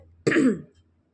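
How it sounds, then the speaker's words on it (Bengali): One short, close cough or throat-clear from someone with a bad cold and itchy throat, a single harsh burst followed by silence. "মাঝে মধ্যেই একটু কাশি হচ্ছে, গলা খুসখুস করছে"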